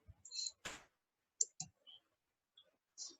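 Sparse keystrokes on a computer keyboard while writing Python code, a handful of soft, separate clicks with gaps between them, close and quiet in an otherwise silent room.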